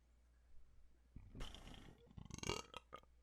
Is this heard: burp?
yes